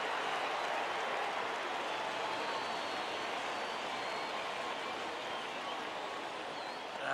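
A simulated stadium crowd in MLB The Show 15 produces a steady, wide roar of cheering and applause at moderate level, continuous throughout with no clear breaks.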